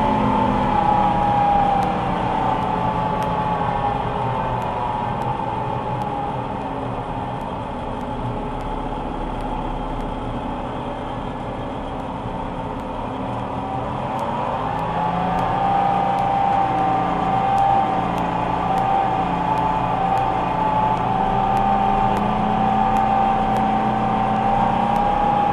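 An old combine harvester drives across a field in second gear with its variable speed wide open, its engine a loud, steady, unbroken drone that rises slightly partway through, with no talking.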